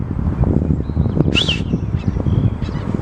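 Loud honking bird calls ring out repeatedly over a busy, low rumble, with a brief bright whistle-like call in the middle.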